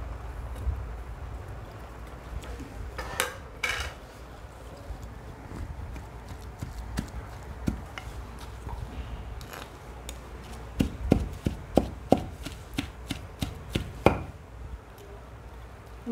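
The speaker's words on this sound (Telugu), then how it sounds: "మొత్తం కలిసే వరకు చక్కగా దంచుకోవాలి." Fresh grated coconut pounded with a pestle in a small stone mortar, a slow series of dull thuds that grows into sharper, closer knocks toward the end.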